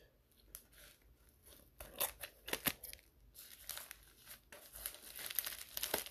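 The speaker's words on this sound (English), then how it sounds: "I probably use the scissors to open things." Scissors cutting open a bubble-wrapped envelope up close, with crinkling plastic and irregular snipping and tearing sounds that grow busier toward the end.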